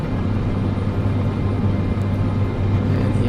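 A Cessna C208B Caravan turboprop powers up for takeoff in Microsoft Flight Simulator 2024, giving a loud, steady engine drone with a deep rumble that holds unbroken throughout.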